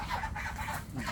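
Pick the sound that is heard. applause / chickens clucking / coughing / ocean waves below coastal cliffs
chickens clucking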